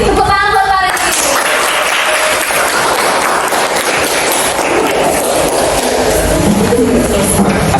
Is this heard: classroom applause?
yes